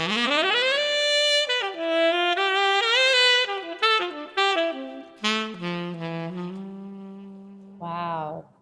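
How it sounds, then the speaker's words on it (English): A saxophone plays a bold, reedy melodic line of held and bending notes with short breaks between phrases, solo and fairly close, ending on a brief lower note. "This is the saxophone."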